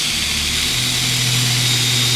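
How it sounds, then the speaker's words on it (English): Power drill boring a hole into a wooden Versailles-style planter, a steady loud motor whine with continuous broadband grinding throughout, no voices. "you just start drilling, and then as you drive it in"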